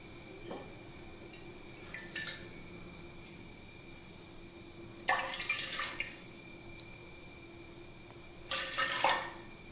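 Water is poured into a pot for rice payesh in several short splashing bursts, quiet and close, with a faint steady hum in between.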